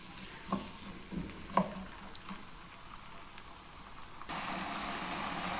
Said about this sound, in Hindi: यहाँ पे जी व्यूअर्स हमारा अनियन जो है वो फ्राई हो रहा है